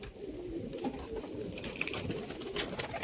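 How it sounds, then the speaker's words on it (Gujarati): A Bodal pigeon with clipped feathers coos low and steady, with soft rustling and faint background noise throughout and no talking. "જોઈ લ્યો કબૂતર. બોડલ નું કબૂતર છે."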